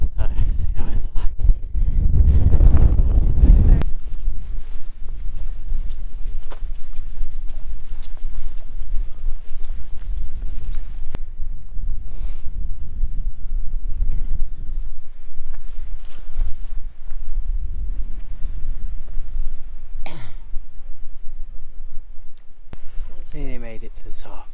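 Strong gusts buffet the microphone on a steep gravel hillside path on the Isle of Skye, heavy rumbling bursts early and then intermittent blasts, with people talking and footsteps crunching underneath.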